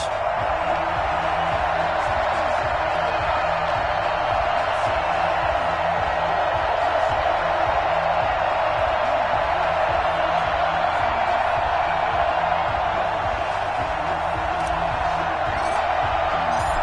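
Stadium crowd in an EA Sports football video game, Houston Texans facing the Tennessee Titans, a steady, loud, unbroken roar of massed voices filling the whole stretch without pause.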